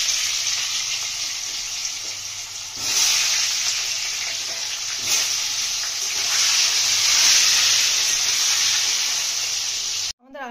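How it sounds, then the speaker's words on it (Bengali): Whole potatoes fry in hot salted oil in a wok with a dense, steady sizzle that swells louder after a few seconds and holds, with a brief clatter near the end. "আলুগুলো ভেজে নেবো।"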